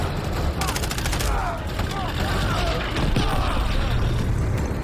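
Sustained battle noise from Call of Duty Modern Warfare 3 on PS5, with a dense, loud rumble of gunfire, a rocket blast and mechanical clatter running throughout.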